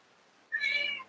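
A cat meows once, a single clear, fairly loud call rising out of a quiet room during a seated meditation session.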